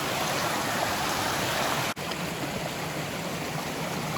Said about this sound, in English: it's another creek crossing that we're gonna do without taking my shoes off